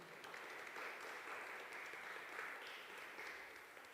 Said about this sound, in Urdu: زوردار تالیوں میں ویلکم کریں گے ان کو.